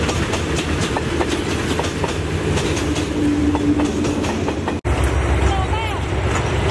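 Express train 39 from Bangkok to Ubon Ratchathani rolls into Bang Sue Junction, its wheels clattering steadily over rail joints, close and loud, with a brief squeal of wheels and a momentary dropout partway through.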